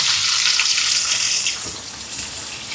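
Onion fries in hot oil with mustard seeds, fennel and dried chillies, a close, steady hissing sizzle that eases slightly partway through.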